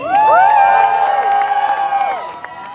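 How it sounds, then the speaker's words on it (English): A crowd at a street protest cheers with loud sustained shouts and whoops that swell near the start, then trail off after a couple of seconds, with little distinct clapping. "Big applause for Rashid!"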